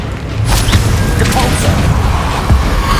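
Confringo and Expelliarmus spells cast in Hogwarts Legacy, loud blasts, crashes and impact thuds packed together with barely a pause, magical booms dominating throughout.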